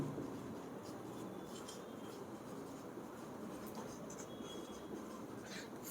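Someone writes on a board during a school physics lecture on motion. Faint scratching strokes come and go over a steady room hiss, and no one speaks.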